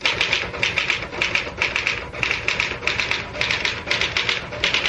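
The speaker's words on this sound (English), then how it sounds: "I typed for a few minutes" Steady clattering of a manual typewriter in a 1970s radio drama, brisk key strikes in uneven bursts with the occasional louder carriage-type knock, close and continuous with nothing else over it.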